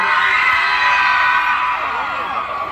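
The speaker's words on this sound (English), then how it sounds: "All my beautiful ladies, can you scream for me, please?" A crowd of women screaming at a live show in Antigua, a loud, sustained, dense wall of shrieks and cheers that fills the space throughout.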